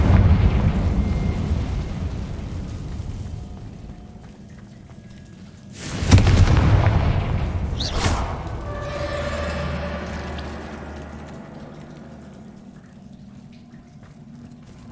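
A Confringo blasting spell goes off in the wizarding game Hogwarts Legacy with a sudden loud burst. A second crack follows, then a long rumbling, crackling tail that fades over a low ambient drone.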